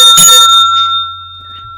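A single bell strike rings out loudly during a sports-talk show's sign-off, its bright metallic tone sustaining and slowly decaying over more than a second.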